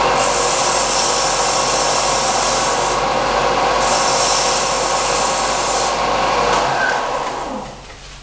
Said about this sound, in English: All I was doing was putting a chamfer on the end of this to make it go into the hole easier.